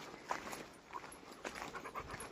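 Several dogs pant together nearby at a moderate level, with quick breathy bursts overlapping and a faint whimper now and then, with no talking.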